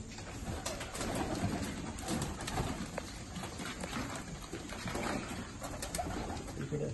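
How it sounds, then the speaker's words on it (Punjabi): Malwai pigeons coo steadily inside a loft, with overlapping soft calls and wing rustles forming a continuous, fairly close bed of bird sound and no talking. "ਬਹੁਤ ਸੋਹਣੇ ਕਬੂਤਰ ਨੇ"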